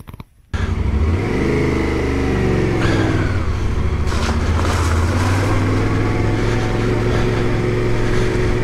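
A motorcycle engine fires up after a brief quiet moment, then holds a loud, close, steady drone with rising revs as the bike pulls away and rides off.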